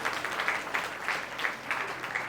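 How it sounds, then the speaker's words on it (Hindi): An audience at a Jain sermon in Laxmi Nagar, Delhi, claps together in a steady, soft patter of applause that sounds somewhat distant and fills the short stretch without any speech. "ताली तो बजा ली"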